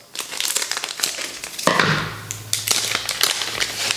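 Crisp crinkling and tearing of a foil Yu-Gi-Oh! card booster pack being opened by hand, close and continuous with sharp rustling bursts and a brief tearing sweep midway.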